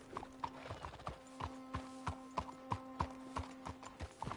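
Horse hooves clip-clop at a steady walking pace in Red Dead Redemption 2, evenly spaced thuds close by, with a low hum and soft ambient tones beneath.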